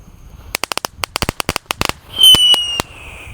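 A rapid string of sharp firecracker pops, then a whistling hiss as a small tank-type firework launches, ending with one last crack.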